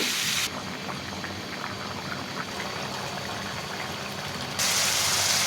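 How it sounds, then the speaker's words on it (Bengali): Water is poured into a pot of braised cooked meat, making a steady rushing, bubbling liquid sound close by. It grows louder toward the end, with no speech. "এই যে মাংসটা কষানো শেষ, এবার পানি দিয়ে দিব।"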